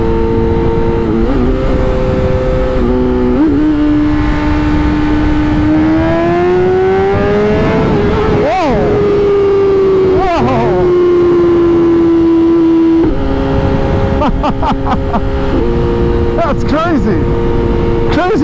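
A 2021 BMW S 1000 RR motorcycle accelerates hard through gear pulls, its loud, close engine note climbing in pitch, dropping at shifts and rising again, with wind roar throughout.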